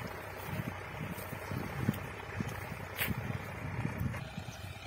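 A new Solis Yanmar tractor idles along at about 1250 RPM in fourth gear, pulling a 3MB reversible plow. A steady, fairly faint diesel rumble drones on with small thumps over wind noise, and no one speaks.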